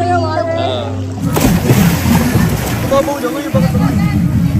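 Water splashes and sloshes nearby at a resort pool amid a lively hubbub of voices, with a voice heard briefly before the splashing starts.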